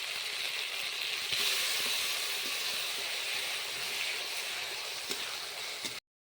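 A paste of onion, tomato and green chilli hits a hot pan of fried garlic with a strong, steady hiss and sizzle that holds for about six seconds, then cuts off abruptly.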